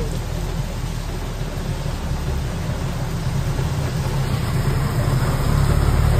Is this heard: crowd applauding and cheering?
no